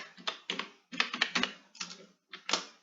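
Computer keyboard keys tapped in quick bursts while code is typed into a Python editor, clustered clicks separated by short pauses, close and fairly quiet with no talking.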